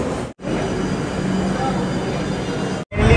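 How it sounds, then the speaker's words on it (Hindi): A metro train arrives at a crowded station in Kolkata, a loud steady rumble of wheels and motors filling the space, briefly cut twice, with a voice speaking over the din. "मेट्रो आ चुकी है"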